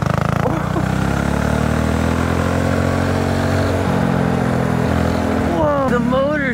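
A 200cc gas go-kart engine roars loud and close on a race track, revving continuously with pitch shifts and a rising whine near the end.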